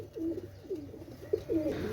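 KTM Teddy pigeons coo softly in a short run of rhythmic, throaty calls, close and fairly quiet, with no voices.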